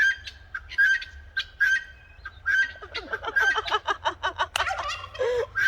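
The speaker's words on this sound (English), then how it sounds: "Our birds are hilarious." Farm fowl, likely turkeys and geese, gobble and honk in repeated bursts close by, with a busier cluster of calls toward the end over a low outdoor rumble.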